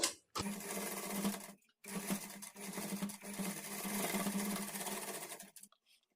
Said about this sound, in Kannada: ಈ ಥರ ಇಟ್ಕೊಂಡು ಈ ಕಡೆ ಎಜ್ಜಿಗೆ ಸ್ಟಿಚ್ ಮಾಡ್ಕೊಳ್ಬೇಕು